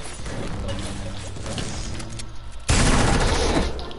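Gunfire in a shooter video game, with a steady burst of shots that jumps into a loud, dense barrage partway through, heard under excited talk from players.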